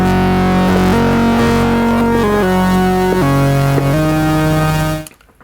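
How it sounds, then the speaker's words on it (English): Synthesizer with built-in overdrive playing a sustained, distorted stepping line of held notes that change pitch several times, loud and gritty throughout before cutting off abruptly near the end. "synthesizers love distortion, and this one here has a built-in overdrive"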